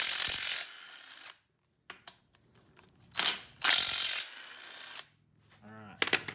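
A hand ratchet loosens the last bolts on the underside of a flipped car subframe: loud, close bursts of fast clicking separated by quiet gaps, with a short voice near the end.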